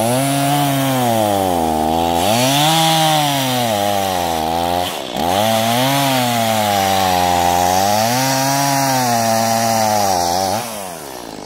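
A chainsaw cutting wood roars loud and close, its engine pitch rising and falling in long sweeps as it bites, with a brief dip partway through before the revving resumes.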